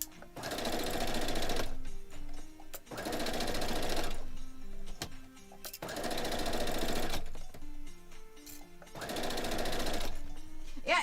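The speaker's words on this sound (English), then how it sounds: "This is all you're doing now is you're just sewing these rows together" Sewing machine stitching quilt rows together, running in four long bursts of steady whirring with short pauses between, close and loud, with brief clicks and handling noises in the gaps.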